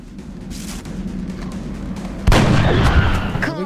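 Sniper rifle shot in XCOM Enemy Within, a single loud, sharp crack midway through, ringing out with a long decaying tail over low background ambience.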